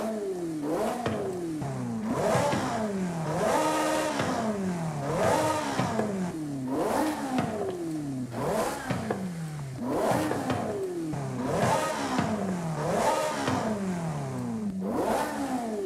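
A car engine in the video game Forza Horizon 5 revs repeatedly, climbing in pitch and dropping back in a steady rhythm of roughly a dozen aggressive pulls, loud and close with no talking.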